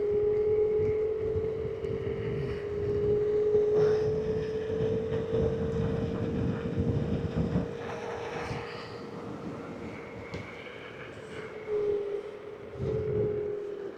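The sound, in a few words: EcoRoad ES4 800-watt electric scooter riding at top speed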